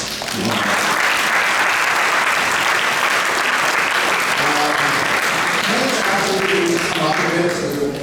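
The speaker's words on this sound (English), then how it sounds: "Another round of applause." Sustained audience applause after a spiritual lecture in a residence, a dense, even wash of clapping that builds and holds, with faint voices near the end.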